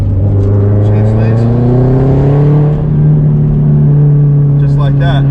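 A straight-piped 2004 Subaru WRX STI downshifting, a loud droning exhaust whose pitch climbs smoothly, briefly dips, then settles higher and holds, heard from inside the car with no talking.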